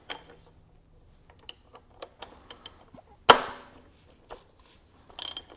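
A 32mm socket wrench loosens the top-mounted oil filter on a 2017 Volkswagen Golf Alltrack, giving a close, quiet series of ratcheting clicks and a sharp metallic clack, with no voices.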